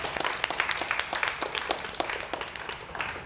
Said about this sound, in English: how about a round of applause for our presenters?